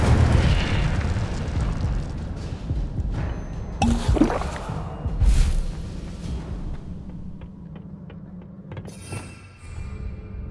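Incendio fire spells burst out in Hogwarts Legacy, several loud whooshing blasts and booming flares scattered over a crackling, rumbling bed of magical combat noise, with a fainter fizzing tail near the end.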